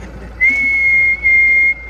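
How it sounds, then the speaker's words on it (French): A steady, piercing whistle blown during a CB radio mobile antenna test, held for over a second, briefly broken, then resumed, heard over a low background hiss with no talking. "Je vais te faire un sifflet pour que tu vois un peu mieux"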